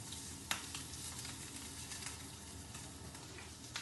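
Small prawns frying in a pan with a little oil make a faint, even sizzle, broken by a few soft taps near the start and end as they are moved.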